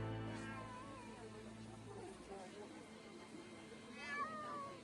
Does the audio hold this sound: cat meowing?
yes